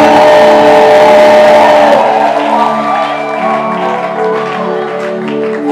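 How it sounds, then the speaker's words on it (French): A church congregation claps and cheers loudly together, a dense, sustained wash of applause and joyful shouting that fills the room and eases slightly after the first couple of seconds. "Que quelqu'un applaudisse très fort pour le Seigneur. Applaudissons, applaudissons."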